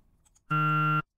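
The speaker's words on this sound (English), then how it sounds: "this is a crazy waveform to try to loop" A steady, bright modular-synthesizer tone on the note G3 holds for about half a second, rich in harmonics and buzzy, then cuts off abruptly after faint clicks.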